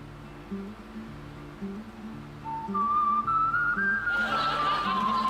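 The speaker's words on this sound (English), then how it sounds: "it's gonna be that whistling that's gonna get me nailed" A melodic tune whistled from a TV show playing in the room, a clear wavering whistle over a quiet repeating background melody, growing louder toward the end amid brighter noise.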